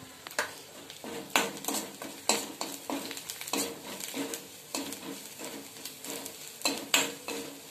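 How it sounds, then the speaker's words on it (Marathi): Vegetable masala with red chili, coriander, cumin, turmeric and black masala sautéed in oil in a pan, with steady rhythmic scraping stirs over a soft sizzle, close and moderately quiet. "आपला मसाला छान परतले गेला आहे तेल सुटलंय त्याला छान"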